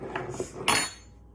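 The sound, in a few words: stirring gluten free sourdough starter in a container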